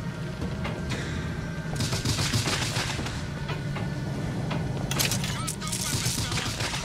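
Pistol fire from an old 9x18 Luger-style German handgun in the BioShock Infinite video game, heard as sharp shots over a dense, continuous bed of game noise and possible faint talk.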